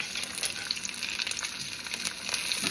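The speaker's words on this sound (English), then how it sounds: "Your skillet needs to be pretty hot, and you need to have some grease. Now let's just watch it go." An egg fries in sausage grease in a hot skillet, giving a steady, close sizzle with scattered crackles and pops and no voices.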